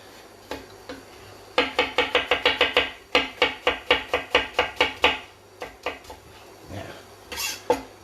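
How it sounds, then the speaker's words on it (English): Rapid, close knife chops on a cutting board as an onion is cut, coming in quick bursts of steady, evenly spaced strokes with short pauses between runs. "Let's see how to easily chop an onion."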